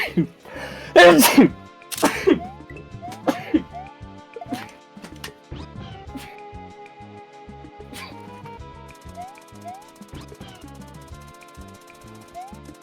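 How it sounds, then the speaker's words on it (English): A person sneezes twice in quick succession, loud and close, during a streamed community race event in a video game, with game music and sound effects continuing afterward. "I'm gonna sneeze."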